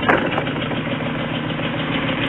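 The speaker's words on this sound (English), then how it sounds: "if you hear the engine, it sounds super rough" A 2011 BMW B7 Alpina engine with 400,000 km idles roughly and steadily at close range, a continuous uneven rumble with no pauses.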